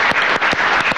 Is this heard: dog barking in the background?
no